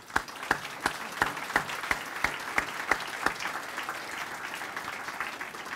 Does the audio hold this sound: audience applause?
yes